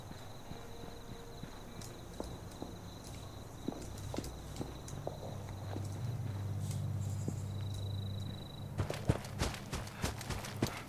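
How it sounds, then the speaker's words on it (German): Footsteps from the video game Fallout 76 tap in an irregular walking rhythm over low game ambience and tonal hums, growing into a denser burst of sharp hits toward the end. "Ich höre doch Schritte."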